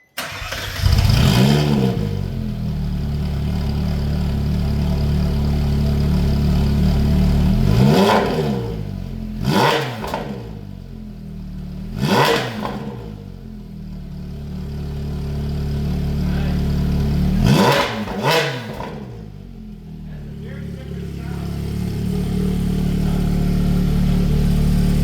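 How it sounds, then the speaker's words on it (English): Car fitted with a Sport Cat F1 iPE exhaust starts up, then idles with a deep rumble and is blipped through several sharp, loud revs that rise and fall, with a final fuller rev near the end. "let's hear this Sport Cat F1 IPE exhaust."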